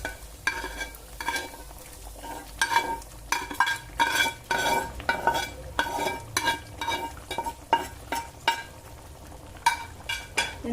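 Paneer cubes tipped into a hot pan of fried palak paneer curry base and stirred, with steady sizzling frying under repeated scraping clinks of a spoon against the pan, no talking.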